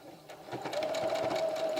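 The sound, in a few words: sewing machine backstitching a seam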